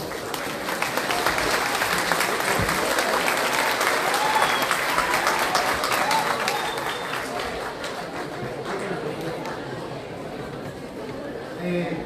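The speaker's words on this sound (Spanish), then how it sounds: "para la cual por favor pedimos fuertes aplausos" Strong sustained applause from an audience at a school artistic-education event greeting a student music ensemble, filling the space for about ten seconds with some chatter mixed in, then tapering slightly.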